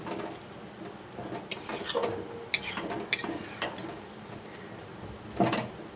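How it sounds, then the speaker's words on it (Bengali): Spatula scraping and clinking in a pan while egg and mashed potato are stirred and mixed together, with a few sharp, irregular taps and scrapes over a quiet background. "তারপর সব কিছুকে একবারে ভালো করে নেড়েচেড়ে মিশিয়ে দিচ্ছি।"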